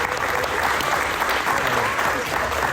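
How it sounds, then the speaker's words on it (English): An audience at a San Diego Comic-Con 2022 panel on enamel pins claps steadily throughout, a dense continuous round of applause filling the room. "Let's give a round of applause to them."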